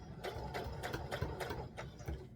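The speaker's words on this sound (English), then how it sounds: "And you want to stitch" Sewing machine stitching a valance, a close, rhythmic mechanical chatter of needle strokes repeating about every third of a second, steady and moderately loud with no talk.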